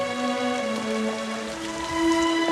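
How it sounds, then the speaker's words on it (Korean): Heavy rain pours steadily on an outdoor excavation site, a constant soft hiss heard under sustained musical tones. "발굴 현장은 쏟아지는 비로 젖어들기 시작했다"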